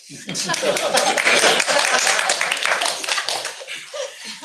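Applause breaks out at a school board meeting, a loud burst of many hands clapping that swells and then thins out over several seconds.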